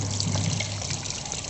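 Motor oil pours into a lawnmower's oil fill, a short steady trickling glug heard close up, with no talk over it.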